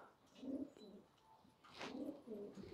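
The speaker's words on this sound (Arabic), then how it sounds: "هاي الحمام" Pigeons cooing in a low, soft rolling pattern, two bursts of calls a second apart, fairly close, with a brief higher bird chirp between them.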